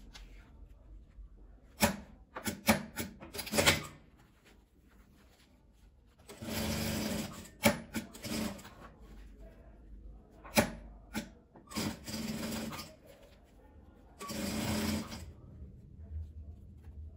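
A sewing machine topstitches a seam on a crochet-needle case in bursts of rapid stitching separated by pauses, several short runs and a few longer ones, close and fairly quiet with no talking.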